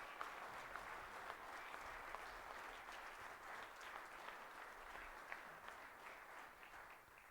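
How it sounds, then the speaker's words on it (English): Sustained applause from a large audience, a steady wash of many hands clapping at an even level, heard from some distance. "give them a round of applause"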